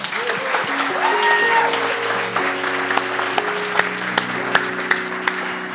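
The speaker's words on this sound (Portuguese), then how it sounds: "Pode dar uma salva de palmas para Jesus." A church congregation claps steadily during a worship service, with the applause running over sustained keyboard music and a few sharper claps standing out toward the end.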